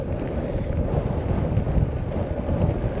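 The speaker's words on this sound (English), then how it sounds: "you can hear that wind." Strong wind buffets the microphone at a wildfire helicopter staging area during the Sandy Fire, a steady loud rumbling roar that never lets up, with no voices.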